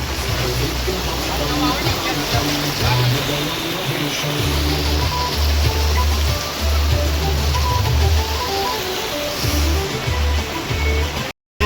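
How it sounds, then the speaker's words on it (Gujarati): Heavy rain pours down continuously in a dense, steady hiss of drops striking surfaces, with a voice talking intermittently beneath the downpour. "વરસાદ એટલો કન્ટિન્યુ જોરદાર ચાલુ છે"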